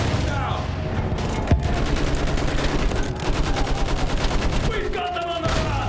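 Rapid machine gun fire and scattered gunshots in a battlefield scene with trenches, loud and dense bursts crackling throughout, while shouted voices come through under the shooting.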